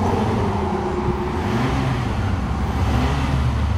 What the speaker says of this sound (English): Revs up good, idles perfectly, no vibrations whatsoever.